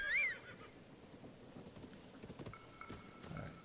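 A horse in the video game Zelda: Tears of the Kingdom gives a short whinny at the start, followed by faint soft game ambience and light scattered taps.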